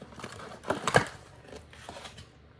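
Cardboard packaging for a sparkly nail drying lamp is torn open by hand without scissors. Close, brief crinkling and ripping sounds peak in one sharp tear near the middle, then fade into quieter rustling.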